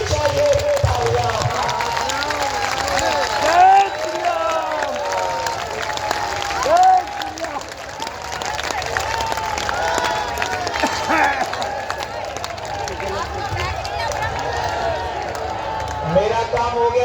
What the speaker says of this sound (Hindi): बजनी चाहिए तालियां